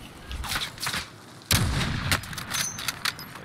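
Sniper rifle shots from a video game, a few sharp cracks with one loud close report standing out among fainter distant pops and game noise.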